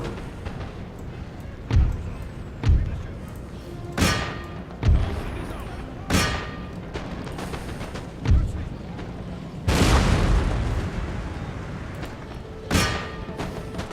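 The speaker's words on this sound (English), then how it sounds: "you see what happens when you target the unit with your artillery" Heavy artillery batteries in Empire: Total War thump out a string of booming cannon shots about every second or two, with one longer rolling blast midway, over a steady low battlefield rumble.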